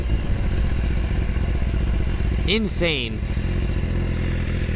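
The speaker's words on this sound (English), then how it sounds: "This Vandemon exhaust, man, insane with the amount of popping that is produced by this exhaust system" Full titanium Vandemon exhaust on a BMW S1000RR, crackling with a short burst of loud pops and backfire bursts over a steady idle, while someone speaks briefly.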